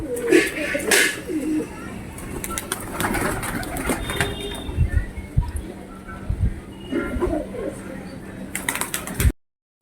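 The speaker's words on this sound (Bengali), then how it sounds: "এই দেখো কিছু পায়রা" Pigeons at a loft, some perched outside on a roof, cooing in a steady murmur with flutters and small rustles, a busy close-up ambience over low background noise until it cuts to silence at the end.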